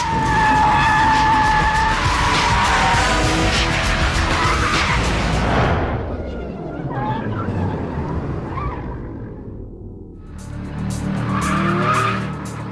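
A 996 Porsche 911 GT3 engine roars while tires squeal through a long sideways slide, the noise easing midway before revving up again; a voice speaks over it.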